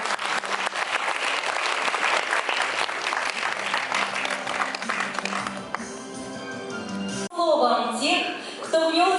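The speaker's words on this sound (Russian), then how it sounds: "Ваши аплодисменты, дорогие друзья." Audience applause at a lyceum anniversary celebration: dense, sustained clapping from a large crowd, loud and steady before thinning out, then giving way to music near the end.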